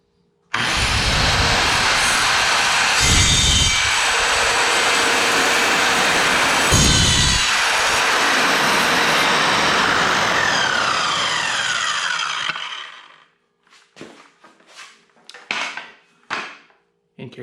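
Evolution R185 CCSX circular saw cutting through wood and hardened screws while building a compost bin, a loud continuous high whine for about twelve seconds, then winding down into scattered clatter and knocks.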